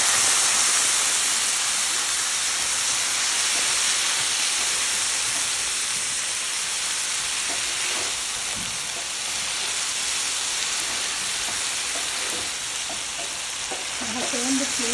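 Yogurt thinned with water pours into a pan of sizzling tempered okra (bhindi), and a loud, continuous hiss and crackle of frying fills the whole stretch with faint stirring scrapes underneath.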